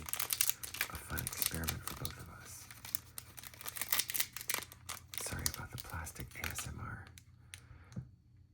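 Plastic packaging around an ink dip pen crinkles and crackles close up in irregular bursts, with brief pauses between handlings.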